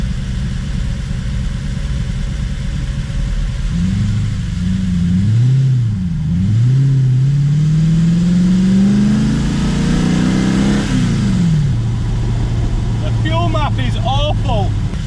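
A Porsche Cayman fitted with an Audi V8 engine drives and revs, its engine note rising and falling loudly before settling into a steady climb, then easing off; a person talks briefly near the end.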